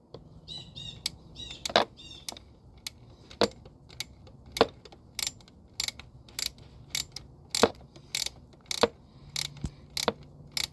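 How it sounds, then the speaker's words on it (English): A closed-end ratcheting wrench loosens a 10 mm nut on a throttle body stud of a 3800 engine, producing a series of crisp, close ratchet clicks in short bursts with light metallic handling between. "So I'm just loosening this nut. It's a 10 millimeter nut on a stud that comes out of the throttle body."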